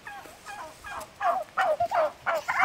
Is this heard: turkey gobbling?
yes